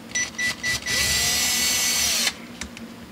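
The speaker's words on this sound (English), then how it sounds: "All right, power tool time." Three short bursts of a power drill installing Grover guitar tuners, then a long steady whir of about a second and a half, followed by a few faint clicks.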